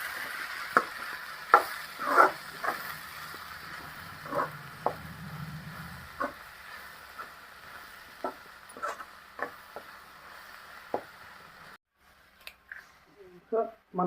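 Chili powder fries and is stirred into an egg curry in a pan: faint, scattered scrapes and soft taps of a spoon over a quiet background sizzle, with pauses between strokes.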